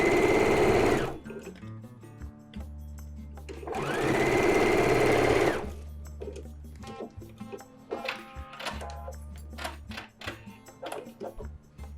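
A sewing machine stitching an appliqué flower pillow runs in two loud, even bursts separated by a pause, then gives way to lighter handling clicks and rustles.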